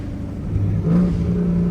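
A Chevrolet Camaro ZL1 engine blips and revs on a downshift, a loud, close, rising burst of mid-pitched engine roar lasting about a second over steady cabin road noise.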